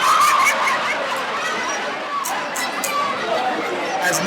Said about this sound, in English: this crowd absolutely electric right now